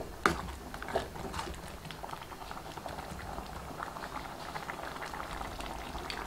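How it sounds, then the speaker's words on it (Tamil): A bottle gourd and coconut stew bubbles in a pot at a steady boil, with soft continuous popping and gurgling up close. "இப்போ நல்லா கொதிச்சிருச்சுங்க."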